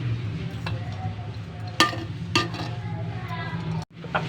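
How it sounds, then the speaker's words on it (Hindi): Desi ghee tadka sizzling in a pan for Muharram-style besan ki chori, a steady low crackle with a couple of sharper spitting pops and a brief cut near the end. "अब ये देसी घी का तड़का इसको लगा दिया गया है।"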